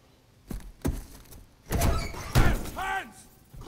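Heavy thuds and clunks of an ambulance door being handled in a Modern Warfare III combat scene, several separate impacts spread out, with a voice briefly speaking between them.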